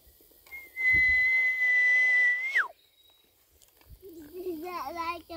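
A person whistles a long steady note imitating a bird call, ending in a quick downward slide, then a voice speaks in a warbling, playful tone.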